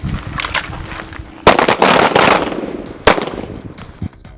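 Handgun fire during laser sight training: several sharp, loud shots ring out close by over a few seconds, irregularly spaced, with echoing tails between reports.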